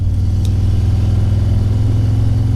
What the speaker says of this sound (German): Und dann haben wir noch den Sound jetzt auch mit dieser Auspuffanlage.